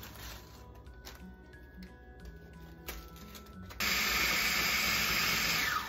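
A food processor crushing crackers grinds with a rattling, uneven churn, then surges louder and harsher near the end into a steady roaring whir; no talking.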